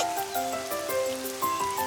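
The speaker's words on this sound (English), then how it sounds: "the rain" Cartoon-style rain sound effect for a children's drawing lesson: soft pattering drops over light melodic plinks, steady and moderately quiet throughout, with no voices.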